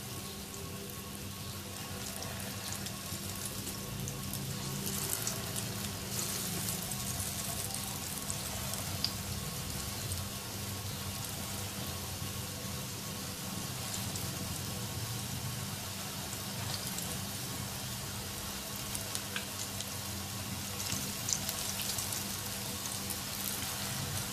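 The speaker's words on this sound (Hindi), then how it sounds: "गोल्डन ब्राउन कलर में फ्राई करेंगे इनको।" Gram flour phulkian fritters frying in medium-hot oil, a continuous dense crackle and sizzle with scattered sharper pops, steady and close throughout.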